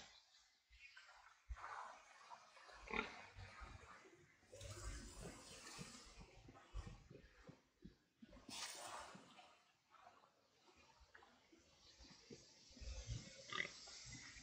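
A pig in an Irish camp in Assassin's Creed Valhalla grunts and oinks repeatedly over a busy game soundscape with splashing and ambient noise throughout.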